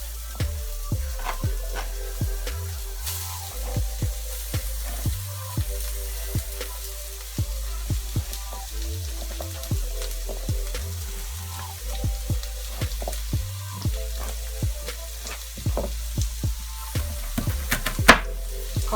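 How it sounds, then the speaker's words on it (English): Onions fry in a skillet for a sweet potato hash, giving a steady low sizzle broken by irregular clicks and scrapes of stirring, heard close and alone without talk. "And then I'm gonna get my onions over there in the skillet."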